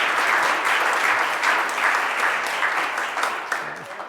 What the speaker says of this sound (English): Let's give our scouts a round of applause.